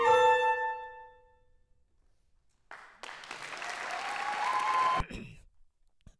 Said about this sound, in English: probably a little too quiet on the applause